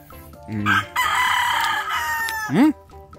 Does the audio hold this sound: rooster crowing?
yes